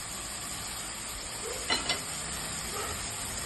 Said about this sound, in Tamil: இப்போ நம்ம தக்காளி போட்டுக்கலாம்